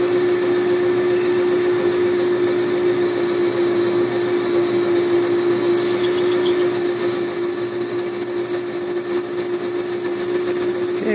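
A lathe drills a countersunk hole in a drum lug, the tailstock fed in 90 thousandths deep. A steady, loud motor hum runs throughout, and partway through a thin, high squeal of cutting joins it and holds to the end.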